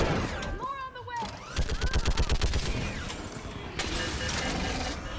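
Rapid bursts of automatic gunfire from a Mass Effect 3 firefight pound steadily in the middle stretch, with scattered shots and battle noise before and after, while voices shout over the fighting.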